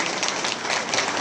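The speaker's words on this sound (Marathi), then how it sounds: "एकदा टाळ्या वाजवून त्यांचा सत्कार करू." An audience claps steadily to honour a guest at an Indian Overseas Bank function held at a temple trust, producing a continuous dense patter of applause with no break.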